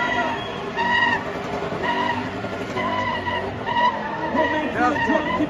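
A motorcycle at a spinning competition revs its throttle repeatedly while the tires squeal and skid in continuous loud waves, with crowd noise and an announcer's voice mixed in.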